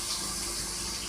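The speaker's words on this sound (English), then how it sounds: "So I can wash my hands." Water runs steadily from a kitchen tap as hands are washed beneath it, a brief continuous splashing hiss heard up close.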